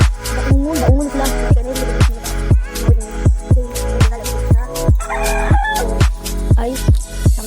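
Chickens close by making loud, repeated rhythmic calls with strong pulsing beats, clucks and crowing-like notes over a busy backdrop, with no talk heard.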